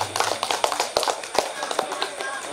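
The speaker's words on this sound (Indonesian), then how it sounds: "Tepuk tangan dulu." Guests clapping for newlyweds at a wedding reception, a quick scattered patter of claps from a crowd at moderate distance, fairly faint throughout.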